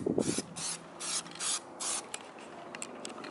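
Spray can applying Plasti Dip coating to an F30 BMW 328i, heard as several short hissing bursts of about half a second each with brief pauses between them, close by and alone.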